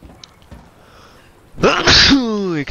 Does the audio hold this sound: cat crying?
no